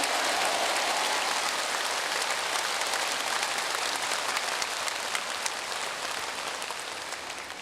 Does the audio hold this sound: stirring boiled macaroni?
no